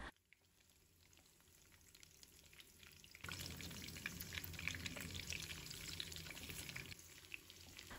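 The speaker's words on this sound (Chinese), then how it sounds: "把五花肉煎至金黄酥脆" Pork belly pan-fries toward crispy golden skin: a quiet start, then a sudden loud, dense sizzle and crackle of hot fat that holds steady.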